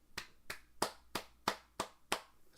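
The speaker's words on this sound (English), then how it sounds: "I was clapping as like a appreciation for you culturing yourself in Hellblazer" Hands clap six times in an even, unhurried rhythm, each clap crisp and close with a quick decay and near-silence between strikes.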